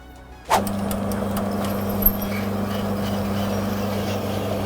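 Lathe drilling straight through stainless steel with a 12.5 mm bit, starting abruptly as a steady close motor hum with a constant low drone, plus one brief knock partway through.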